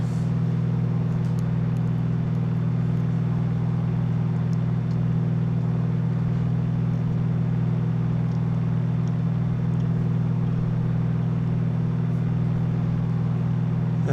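A steady, droning propeller aircraft engine in the X-Plane simulator hums at constant pitch as the RPM is pulled back, loud and unbroken throughout with no talking.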